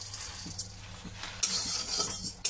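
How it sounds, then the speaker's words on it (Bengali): Dry sago pearls are stirred in a hot empty pan, with soft scraping and rattling strokes, close and fairly quiet, and a couple of brighter bursts. "সাবুটাকে শুকনো খোলায় ভালো করে নেড়ে নেবো"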